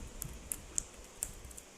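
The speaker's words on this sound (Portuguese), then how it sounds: "eu vou fazer o clique, ó." Slime squeezed by hand gives off a quick run of small, crisp clicks and pops, four or five faint snaps in an uneven rhythm over quiet background.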